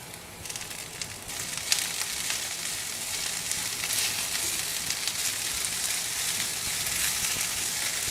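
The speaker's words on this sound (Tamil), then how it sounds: "சிம்லேயே வச்சு இது வதக்கணுங்க." Mint leaves sautéing on low heat in a pan with dried red chillies and tamarind for chutney, a steady, gentle sizzle with soft crackles and occasional stirring scrapes, close and continuous.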